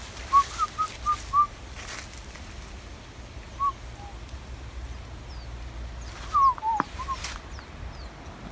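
Short whistled bird calls in a quick series of four, then a few scattered chirps later, faint against a steady outdoor background hum in Goll Woods Nature Preserve.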